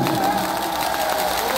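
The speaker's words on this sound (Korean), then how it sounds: "박수 한번 드리겠습니다" Stadium crowd at Sajik Baseball Stadium cheering and applauding a Lotte Giants pitcher after a game, a dense, steady roar of many voices and claps filling the whole moment, fairly loud and continuous.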